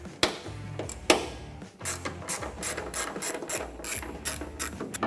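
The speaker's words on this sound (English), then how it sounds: "the only tool you're going to need is an 8mm socket, and that's to remove these two screws on the inside of your bed" An 8mm socket ratchet clicks in rapid bursts while removing screws inside the bed of a 2020-2021 Jeep Gladiator to free the taillight, with a few sharper knocks and no talking.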